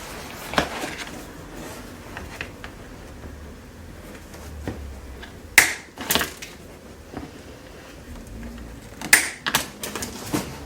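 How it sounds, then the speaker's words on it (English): Hardened steel hog rings are snipped off a car seat cover during a seat skin install, giving scattered sharp clicks and metallic snaps at irregular intervals over a quiet workshop background. "So I cut them in 2 pieces because usually when you cut them there, because they're kind of like hardened steel, they don't open up."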